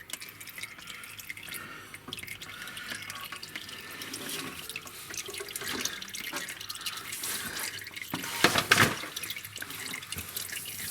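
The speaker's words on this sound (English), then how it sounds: "Now it's just a matter of waiting for the fluid to drain off the filter and the valve body and so forth" Transmission fluid drains and drips steadily off the filter and valve body of a 2006 Mercedes E350 (W211) with its pan removed, a continuous trickling patter with a brief louder splash near the end.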